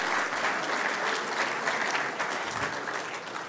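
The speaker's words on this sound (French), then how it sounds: "Je vous demanderai d'applaudir monsieur François Leray, s'il vous plaît." A steady, moderately quiet round of audience clapping for speaker François Leray at a conference of the École Nationale de Ski et d'Alpinisme, even and unbroken throughout with no voices.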